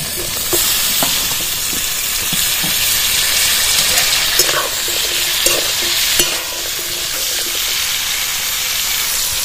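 Drumstick (sajne data) stalks frying with potato and pointed gourd in a pan, giving a steady loud sizzle with stirring scrapes and clinks throughout, no talking.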